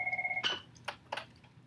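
A mobile phone ringing in a classroom: a rapid electronic trill pulses for under half a second, then is cut by a few sharp clicks and knocks nearby, with no talk.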